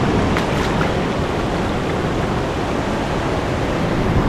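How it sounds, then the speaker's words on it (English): Ocean waves wash in over rocks along the Vancouver Island shore, a loud, broad, unbroken roar of surf with a rushing, hissing texture and no pauses, close to the microphone. "there's these waves coming in, and sometimes they're big waves"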